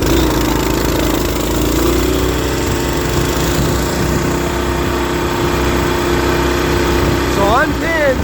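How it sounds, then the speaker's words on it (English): Two mini bikes, one with a clutch and one with a torque converter, race side by side in a drag race, their small engines droning loud and steady close by, with a brief rising whine near the end. "another test we're gonna do is a drag race. He's on the clutch, I'm on the torque converter"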